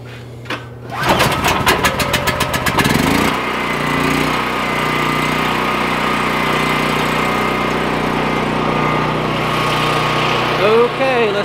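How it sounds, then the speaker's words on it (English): A generator pulls over and catches with a rapid burst of starting pulses, then settles into a steady, loud engine drone that runs alone for the rest of the stretch. "I'm gonna fire up the generator and we're gonna see if this actually works."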